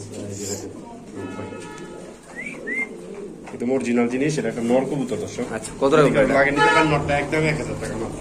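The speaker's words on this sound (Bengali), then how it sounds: "তো কবুতরটা একটু দেখাই দেই" Pigeons coo softly in the background while people talk loudly over them, the birds' calls mostly buried under the conversation.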